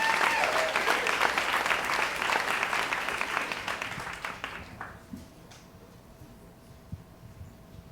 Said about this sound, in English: Everybody, please clap for Seth Davis